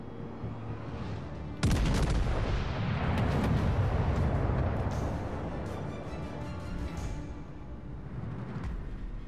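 Naval artillery gunfire in World of Warships Legends, with a King George and Vanguard battleship in play: a heavy broadside boom erupts near the two-second mark, then a long rumbling roar with scattered crackling impacts slowly fades.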